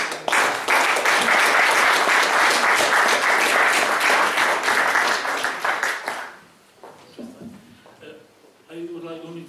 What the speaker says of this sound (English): we have to give him a big applause.